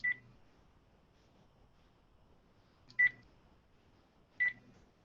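Three short telephone keypad dialing tones, spaced unevenly about three and then one and a half seconds apart, clear and fairly close against a quiet room with faint background noise.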